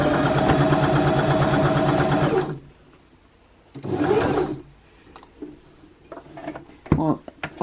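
A sewing machine stitches a child's bunad vest in a fast, steady mechanical whir for a couple of seconds, then stops, followed by a shorter burst and quiet handling noises.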